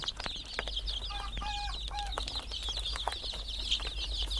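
Desi chickens, hatched at home in an incubator, cluck around a small hobby farm while pecking at leftover feed, with steady high chirping and scattered short clucks close by throughout.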